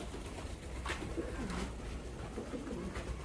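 Pet pigeons coo in low, throaty bursts during cold winter weather, several soft calls overlapping over a steady background hum, with no talking.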